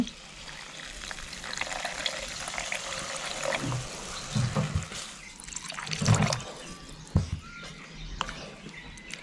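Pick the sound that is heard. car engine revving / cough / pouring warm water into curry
pouring warm water into curry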